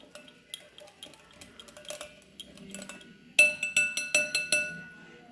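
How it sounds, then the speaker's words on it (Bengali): Yogurt being beaten in a bowl for Mathura cake, a spoon clinking against the bowl first in light scattered taps, then in a loud rhythmic run of about seven sharp strikes. "এই দইটাকে ভালো করে ফেটে নেব"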